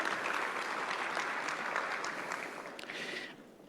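Audience applause at a labour law congress, steady and fairly close for a few seconds before tapering off, with no speech over it.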